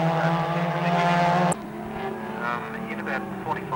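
Car number 9, the Bendigo car of Alan Harris, screams past at a race meeting with a loud, high engine whine that cuts off abruptly, followed by a quieter engine drone while a commentator talks over it.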